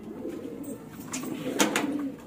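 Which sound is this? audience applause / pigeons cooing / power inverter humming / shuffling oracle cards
pigeons cooing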